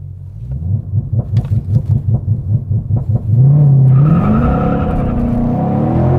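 A 2020 Ford Mustang Shelby GT500 Super Snake of 800 HP idles with a rhythmic, lumpy burbling rumble, then launches hard at a drag race. The engine roars loud and close with rising revs and a squeal of tires as it pulls away.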